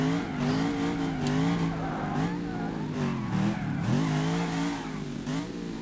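An 800-horsepower light car driven in the BeamNG video game sounds loud and close, its engine revving up and down in wavering surges with occasional tire squeal and no talk.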